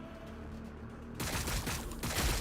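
Gunfire in Warhammer 40K Battlesector breaks out after a quieter stretch, a dense crackling volley of shots that grows loud and stays continuous to the end.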